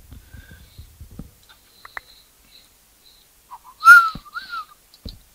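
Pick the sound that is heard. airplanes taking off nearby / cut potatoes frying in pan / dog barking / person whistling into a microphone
person whistling into a microphone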